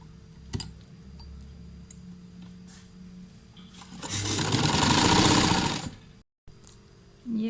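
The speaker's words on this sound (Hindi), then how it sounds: "अब इसको इस तरह से बराबर रख के, यहाँ से सिरे बराबर रख के मैं पूरी सिलाई लगा के आपको दिखाती हूँ" A sewing machine stitches a fabric strip onto a shirt neckline, running steadily for about two seconds after some quiet handling noises, with no talking.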